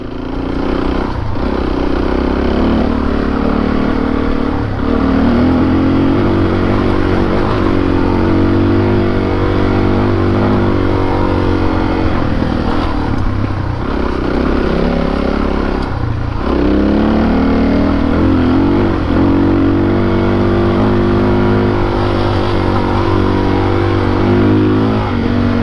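Dual-sport motorcycle, a DRZ400S or CRF300L Rally, ridden along, its engine droning steadily and loudly for the whole stretch with rising and falling revs and no talking.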